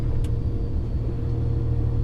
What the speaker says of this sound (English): I'm going to try and reverse back out of here facing the right direction